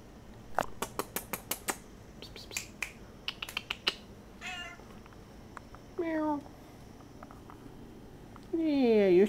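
A cat meows a few times, rising and falling cries that get louder near the end, mixed with clicking sounds and someone talking.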